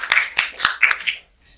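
A few people clapping hands in a classroom before a group presentation, about five sharp, separate claps close by, ending in quiet.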